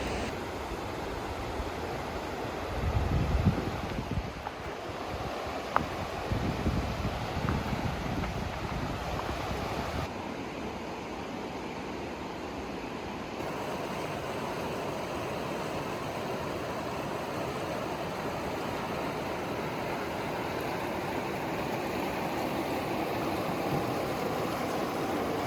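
River flowing in Mt. Baker National Forest, a steady broadband rush of water, continuous and fairly loud throughout, with occasional wind buffeting on the microphone early on.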